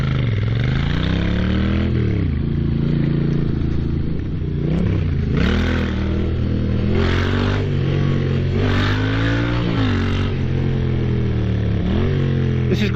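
Moto Guzzi V7 motorcycle engine while riding, a loud continuous growl that rises and falls through repeated revs and gear changes, with wind rush throughout.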